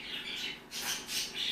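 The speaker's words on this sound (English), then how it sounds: "Do you hear this bird? He's trying to open the cage." A pet bird squawks while trying to open its cage, giving several rasping calls in quick succession that sound fairly faint and close.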